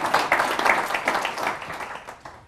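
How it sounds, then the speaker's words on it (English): An audience applauds an audience member, a short round of scattered clapping that swells quickly and fades out over a couple of seconds, with a faint murmur underneath. "Give Maritza a good round of applause as well."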